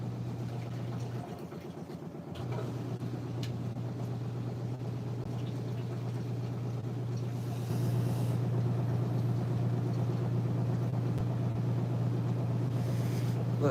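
A washing machine revving up toward full spin speed, a steady low motor hum with a rising whir that grows louder partway through, with faint background noise.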